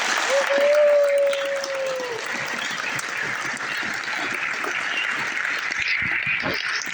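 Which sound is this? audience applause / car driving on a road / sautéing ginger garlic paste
audience applause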